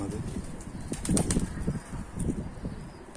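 Pigeons flap their wings as they enter a coop, giving loud, close bursts of fluttering that rise and fall, with a few light knocks among the beats.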